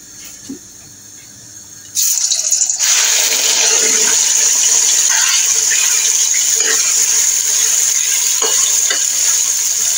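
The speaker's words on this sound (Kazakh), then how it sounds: "Енді етімді саламын." Lamb meat dropped into hot oil on high heat for a Kazakh lamb and potato dish, bursting into a loud, steady sizzle after a brief quiet start and roaring on without pause.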